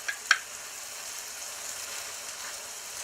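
Minced garlic, four cloves, hits a pan of jalapenos over high heat, giving a steady soft sizzle with a couple of brief sharp pops near the start, fairly quiet and even throughout.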